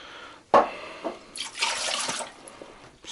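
Water pours into an autoclave up to its false bottom, about one and a half litres, heard as a sudden splash followed by a running, gurgling stream and small drips close by.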